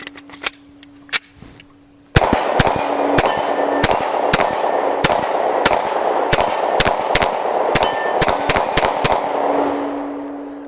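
Glock 23 pistol fired at a range: a couple of separate shots, then a quick run of about fifteen sharp cracks in steady succession, loud and close.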